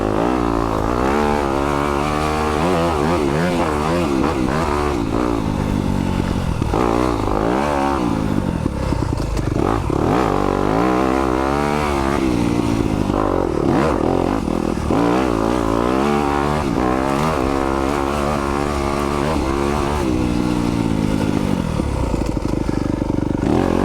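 A 2020 Yamaha YZ250FX dirt bike engine on the move, loud and close, its pitch rising and falling steadily as the rider works the throttle through repeated revs, with no voices.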